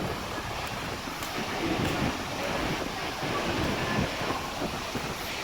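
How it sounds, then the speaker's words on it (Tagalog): Strong typhoon wind roars steadily over the sea at Calayo, Nasugbu, Batangas, with surf washing beneath it and heavy gusts buffeting the microphone in a continuous broadband rush. "Damdam pa yung lakas ng hangin."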